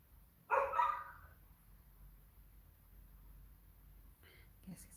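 A neighbor's dog barks in a short loud burst near the start, then only faint room noise follows, with a brief soft sound near the end.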